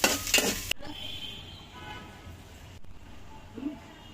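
Food frying in mustard oil in a pan is stirred with a utensil. A sharp clink opens it, followed by soft, steady sizzling and a few scraping stirs in a quiet kitchen.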